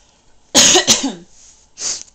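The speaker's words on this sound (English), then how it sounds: "I spend a lot of time clearing my throat." A close, loud throat-clearing cough from someone with a cold, with a rough double burst, followed a moment later by a shorter, softer one.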